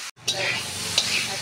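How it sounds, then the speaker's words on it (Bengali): Spices sizzle loudly in a hot pan for a lentil fritter curry with papaya and potato, with a steady frying hiss and a scrape of stirring near the start and again about a second in. "এখন ভালোভাবে সব মশলার সঙ্গে ভাজা হচ্ছে।"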